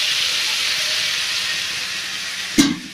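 Cumin and jaluk pepper paste frying in a pan, a steady close sizzling hiss that runs throughout, ending in a brief clatter near the end.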